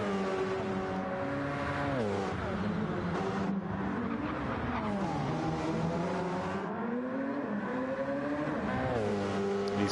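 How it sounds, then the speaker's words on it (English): Race cars in Gran Turismo 7 accelerating hard out of slow corners during an online endurance race, with several engines sweeping up and down through gears and a constant, loud, layered roar throughout, with no talk. "These cars are just so fast out of slow corners."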